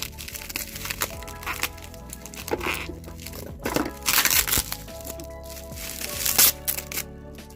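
Close crinkling, crackling bubble wrap and tape being cut and pulled open from around an acrylic powder package, with irregular bursts of crunchy plastic noise.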